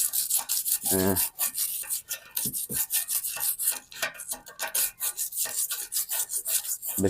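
A wooden stick scrapes and rubs through the clogged, rusty burner holes of a gas stove, giving a steady rasping, scratching sound close by with repeated short strokes and no talking.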